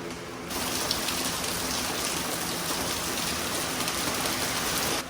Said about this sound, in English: As you can tell, it is raining outside.